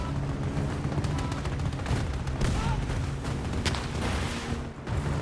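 Incoming gunfire strikes the player in a Battlefield 2042 match, a dense, steady battle din of rapid shots and impacts with distant booms, continuous and fairly loud throughout with no clear pauses.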